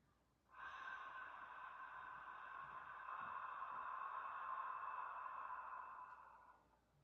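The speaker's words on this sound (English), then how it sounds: "slow HA sound on the exhale that sounds like this" A person breathing out slowly through the mouth with a long, steady breathy HA, starting abruptly, holding evenly for about six seconds, then fading gently; no talking.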